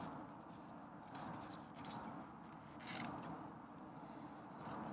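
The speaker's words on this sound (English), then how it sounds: "I'm going to trim some of this fabric first" Scissors snipping through muslin fabric while draping a corset pattern: a few brief, faint cutting bursts spaced across a quiet, hissy background, with no talking.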